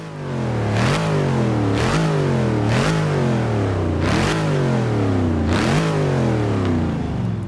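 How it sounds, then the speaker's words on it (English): A Dodge Challenger Hellcat V8 at Watkins Glen revs hard five times in a steady rhythm, each loud close blip rising and falling back to a rumbling idle. "So first out on Watkins Glen is the mighty Challenger. Let's go ahead, rev her up"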